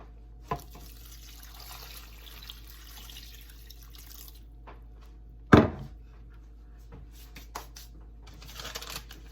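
Water trickles and splashes steadily into a crockpot, with a couple of sharp clanks and a louder burst midway, no talking.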